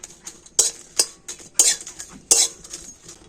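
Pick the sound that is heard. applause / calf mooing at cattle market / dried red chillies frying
dried red chillies frying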